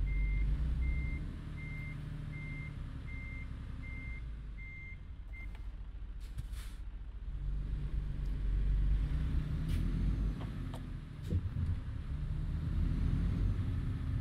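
Reversing alarm on a Cascadia 4th gen truck in American Truck Simulator beeps steadily and evenly for several seconds over a low rumbling diesel idle, then the beeping stops while the engine keeps droning.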